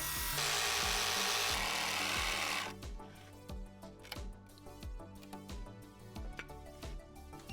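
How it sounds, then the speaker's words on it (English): Handsaw cutting Japanese cypress (hinoki) wood siding in a bathroom, after a burst of broad rasping at first, then a steady run of close, rhythmic back-and-forth strokes, each with a faint clack. "Back to the handsaw."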